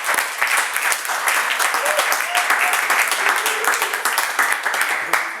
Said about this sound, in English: A round of applause and thanks to the Durhams for hosting us.